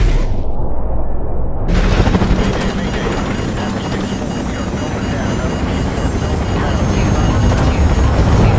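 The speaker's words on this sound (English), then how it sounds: "Incoming missile." An incoming missile strikes during Modern Warfare Remastered gameplay, a sudden roaring impact after a thin whine, then a loud, sustained rumbling wash of debris and engine noise.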